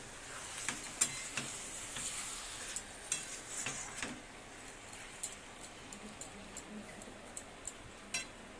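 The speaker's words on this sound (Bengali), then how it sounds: "মাংসটা আমি কষছি।" Meat sautéing in a pot, a soft steady sizzle with scattered sharp clinks and scrapes of a spoon stirring against the metal, close and moderately quiet, no talking.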